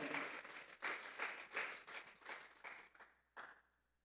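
A church congregation claps as an offering of praise, a rhythmic round of unison applause with regular beats that thins and fades toward the end, a final lone clap trailing off.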